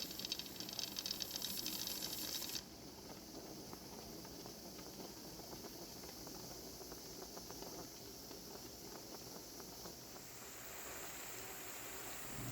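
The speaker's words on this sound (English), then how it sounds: "we're just going to wait until we start seeing steam shoot out of that hole there" Steam vents from a pressure canner full of potatoes with a steady, faint hiss and soft rattling. The hiss drops in level partway through and then swells again near the end.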